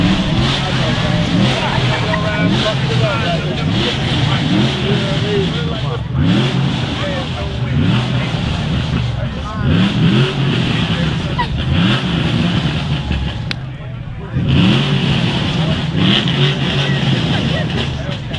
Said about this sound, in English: run the engine all night